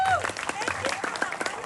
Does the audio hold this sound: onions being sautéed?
no